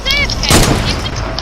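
Gunfire in a tactical shooter video game set on a playground map with shotguns, a single loud close blast about halfway through over steady game noise, with voices talking.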